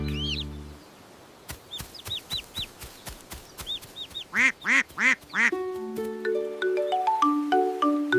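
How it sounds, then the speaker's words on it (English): Cartoon ducks in a children's nursery song give a quick run of bright, nasal quacks in the middle, set against a light musical backing that rises into a melody toward the end. "Quack, quack, quack, quack!"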